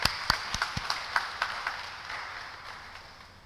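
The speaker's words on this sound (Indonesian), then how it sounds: "Tepuk tangan buat pengantin dah." Scattered hand claps at a wedding blessing service for a bride and groom, a few sharp distinct claps at first that blur into a soft, fading patter of applause.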